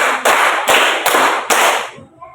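Group of people clapping together in a counted classroom clap pattern, four loud sharp claps in steady rhythm, then fading.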